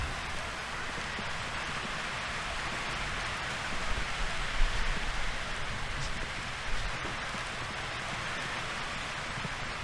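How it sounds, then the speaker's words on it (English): Heavy rain pouring down during an outdoor college baseball game, a steady dense hiss throughout with slight swells, no voices over it. "Heavy rain still coming down."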